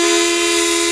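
A harmonica two-hole draw played with faulty embouchure so neighboring holes one and three bleed in, giving one steady, loud, buzzy reed tone held for about a second.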